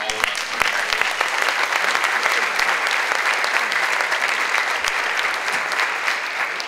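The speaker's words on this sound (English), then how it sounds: "they deserve a big warm round of applause from all of us" An audience at a climate change panel event bursts into sustained, dense clapping that holds at an even, loud level throughout, with no voices over it.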